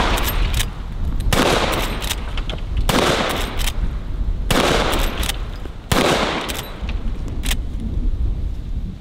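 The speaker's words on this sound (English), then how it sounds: "So that was a different bullet, and you could definitely hear the difference in the impact." A tactical lever-action .45-70 rifle fires at a target outdoors, giving four loud, sharp shots spaced about one and a half seconds apart, each trailing off in a rumbling echo, with fainter clicks between them.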